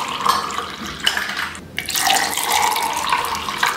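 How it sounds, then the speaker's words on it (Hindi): Raw mango sherbet pours steadily into glasses holding ice cubes, a continuous close liquid stream with a brief pause midway before flowing again. "और अब इसमें डालेंगे आम का शरबत"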